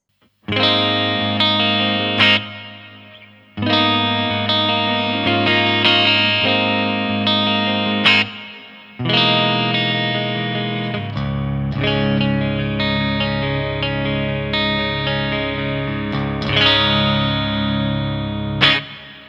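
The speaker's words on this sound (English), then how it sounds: "So that's a really nice and sparkly clean tone. Let's add a little bit of reverb there." A clean electric guitar through a Fane Crescendo AE speaker plays ringing chords with a reverb tail, sustained phrases separated by short breaks, loud and close.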